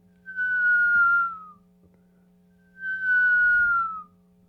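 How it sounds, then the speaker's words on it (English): A Nerf whistling football thrown back and forth gives two clear, sustained whistle tones, each about a second long and gently falling in pitch, separated by a short gap over a low steady hum. "I heard the vacationers throwing one of those Nerf whistling footballs"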